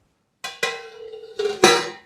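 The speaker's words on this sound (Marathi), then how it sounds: "झाकण ठेवायचं" A metal lid clatters onto a hot kadhai holding a cake tin on a stand, two sharp clanks followed by a ringing metallic hum and a final louder clang, close and clear with no talking.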